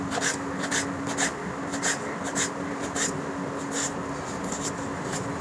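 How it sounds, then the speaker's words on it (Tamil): A knife slices potatoes into thin, even strips, with short regular strokes against a cutting board repeating steadily over a constant low background hum. "ஸோ இந்த மாதிரி தான் எல்லா உருளைக்கிழங்கும் கட் பண்ணணும்."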